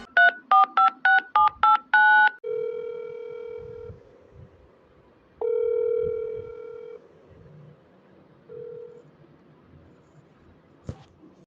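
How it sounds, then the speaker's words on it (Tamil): A phone call rings out unanswered from a new number: a quick run of keypad dialing tones, then repeated steady ringback tones sounding in spaced bursts, fairly close and clear with no voices. "என்ன ரிங் போயிட்டே இருக்கு, இவ எடுக்கவே மாட்டேங்கிறா."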